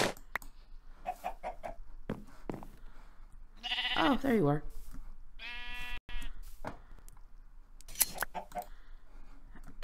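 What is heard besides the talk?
sheep bleating in a video game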